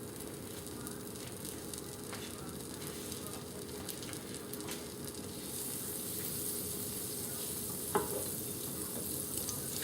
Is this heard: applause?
no